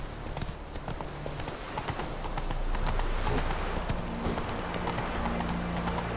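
In The Witcher 3, the horse Roach trots along in a steady clip-clop rhythm of hooves, close and quiet, over a low game ambience that swells slightly midway.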